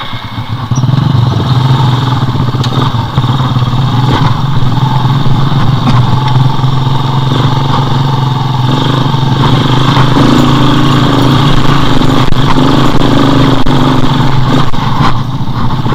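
A motorcycle engine runs steadily and loudly near a rural road in Pasir Gombong, Cikotok, Lebak, Banten, with a continuous low drone and no pauses.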